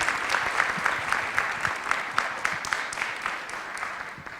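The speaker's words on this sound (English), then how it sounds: "Please give a round of applause." An audience applauds steadily, a dense patter of many hands clapping at moderate volume, continuing evenly without cheers.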